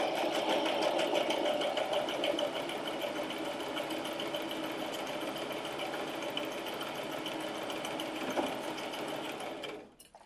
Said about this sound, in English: you're going to apply gentle pressure and go ahead and start sewing